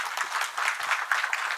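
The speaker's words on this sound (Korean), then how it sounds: "다시 한번 우리 양 교수님께 큰 박수 부탁드리겠습니다" Brief, steady applause from a symposium audience honouring a professor after a lecture on Korean temple food, a close, even patter of many hands clapping with no voices over it.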